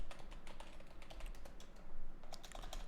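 Typing on a computer keyboard, a rapid irregular run of crisp close key clicks over a low hum, with no talking.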